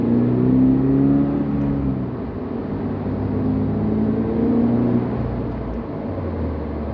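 A 2022+ Subaru BRZ / Toyota GR86 fitted with an HKS Legamax Premium axleback exhaust drones at a steady, low growl, easing slightly in pitch as the revs hold and settle, close and continuous with no talking.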